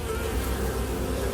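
Honey bees buzz in a hive around the egg-laying queen, a dense, steady drone heard close up with no pauses and no voices.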